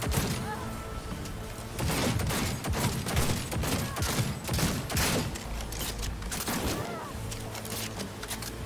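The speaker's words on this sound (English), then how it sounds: "The problem with Johnny's gun is that it's not a pistol. It's a shotgun that shoots straight." Shotgun fire in the video game Cyberpunk 2077, with dense bursts of loud gunfire and crashing impacts stacked throughout, under a busy layer of game sound.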